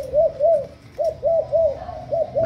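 Spotted dove, a male cage bird sold as a cooer, gives a steady series of soft, rounded coos in short repeated phrases with brief pauses, fairly close and alone without talk.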